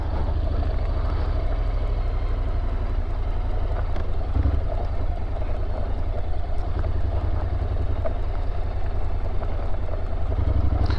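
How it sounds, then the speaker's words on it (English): A Honda NC750X DCT motorcycle rolling slowly at light, steady throttle, its engine a continuous low, even rumble with wind noise, close and unchanging throughout. "As long as you keep a bit of positive throttle, the bike will keep moving forwards"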